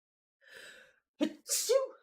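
A single sharp sneeze with a breathy intake beforehand, close and clear against silence.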